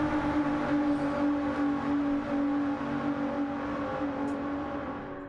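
A Nissan GT-R race car engine drones at the Nürburgring with a steady, tonal whine that holds fairly loud and then slowly fades as it moves away.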